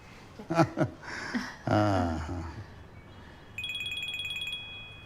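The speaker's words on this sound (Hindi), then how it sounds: "नहीं तो कहीं फिर न फोन बज जाए" Voices speak briefly, then a mobile phone starts ringing with a bright, pulsing electronic tone that repeats steadily for a second or two.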